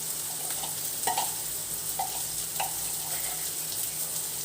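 Leftover ground meat sautéing in a home kitchen pan, a steady soft sizzle with a few brief clinks and stirring scrapes over it, fairly quiet and with no talking.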